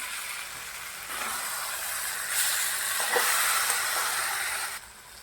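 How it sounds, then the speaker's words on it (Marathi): Brinjal sizzling and sautéing in peanut oil in a pan, a steady close hissing fry that swells slightly midway and drops off near the end, with no talking. "आता वांग परतून घेऊया आता आपण शेंगदाण्याचं तूप पण थोडंसं टाकूया"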